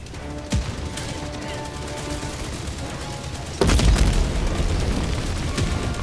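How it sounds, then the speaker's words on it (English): An autocannon turret in a video game firing heavy rapid rounds, a sharp blast early, then a dense, louder barrage of booming shots from about the midpoint onward, close and sustained. "Oh, that's an autocannon turret."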